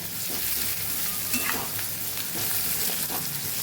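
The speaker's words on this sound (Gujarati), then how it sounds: "તો ડુંગળી ટ્રાન્સપરન્ટ થાય ને ત્યાં સુધી આપણે એને સાતળવાની છે" Sliced onions sautéing and sizzling in a pan for a marinated bitter gourd curry, a steady close frying hiss with occasional stirring scrapes, no talk.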